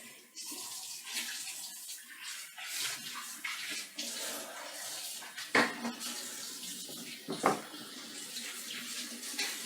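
Running tap water splashes over a kitchen grater as it is rinsed in a sink, a steady moderate stream broken by a few clinks of metal and bursts of heavier splashing.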